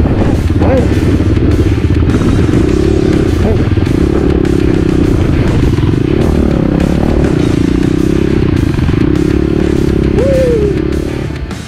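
A motorcycle engine drones steadily close by, its pitch wavering as the bike is ridden over loose sand, with clattering underneath and no talk.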